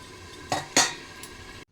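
A metal lid set onto a cooking pot of thin fish curry with potato and ridge gourd, giving two quick clanks close by over a faint simmer before the sound cuts off.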